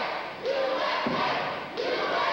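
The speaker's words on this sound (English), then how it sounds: "The crowd picks up the chant of USA" A 1988 professional wrestling crowd chanting "USA" in a Florida arena, three loud rhythmic chant phrases in quick succession from a large, reverberant crowd.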